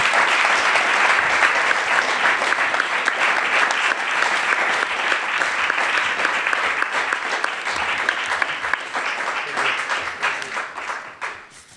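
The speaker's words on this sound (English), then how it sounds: "give a big thanks and applause" Sustained applause from a large crowd, dense steady clapping that fills the space and tapers off at the end.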